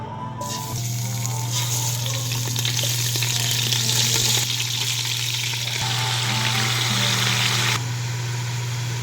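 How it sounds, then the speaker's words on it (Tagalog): Pork frying in hot oil for sinigang na baboy, a loud, continuous crackling sizzle up close with a steady low hum beneath. "bahagya natin piniprito yung karne bago natin siya lulutuin"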